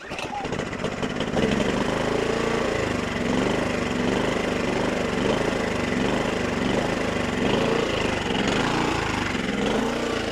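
A small engine idles loudly and close with a steady, slightly pulsing drone after starting up, and someone talks over it.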